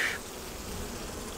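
Honey bees buzz around a plastic hive frame during an October colony inspection, a brief close steady drone with a sharper whine at the start, heard alone.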